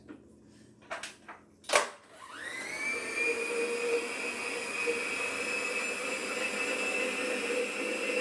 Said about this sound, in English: we're going to have a moment of silence as the blender makes all kinds of noise